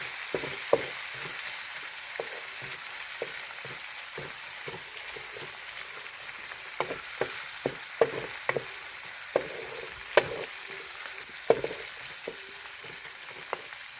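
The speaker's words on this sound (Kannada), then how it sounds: "ಫ್ರೈ ಆಗ್ತಾಯಿದೆ." Poha (flattened rice) frying in a pan for avalakki uppittu, a steady crackling sizzle broken by frequent sharp pops and stirring clicks, close and continuous with no talking.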